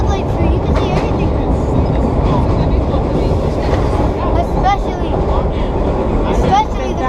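A vintage New York City subway nostalgia train rolls between 2nd Avenue and Queens Plaza with a loud, steady rumble and rattle heard from inside the car, broken by brief squeals.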